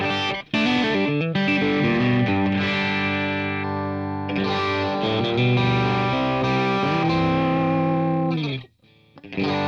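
Distorted electric guitar on the middle pickup through a Fractal Audio Axe-Fx II, playing a sustained chord progression with rich overtones and a chorus-like shimmer, loud and continuous, briefly dropping out near the end.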